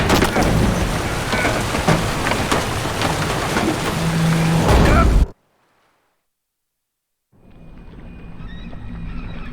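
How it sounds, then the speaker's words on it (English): A storm at sea in The Witcher 3: Wild Hunt on PS5 gives a dense, loud roar of rain and wind for about five seconds, then cuts abruptly to silence before the rain resumes more quietly. "Didn't bargain for no storm."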